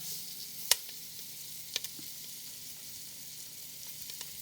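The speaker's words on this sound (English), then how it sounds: "For 5 minutes, we're going to simmer it." A pan of food simmers with a soft, steady sizzle, punctuated by a few sharp clicks or utensil taps, fairly quiet and without voices.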